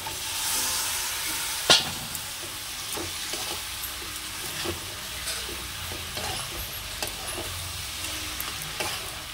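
Steady sizzling of fish frying in a pan with greens, with soft stirring scrapes and a sharp clink near the start.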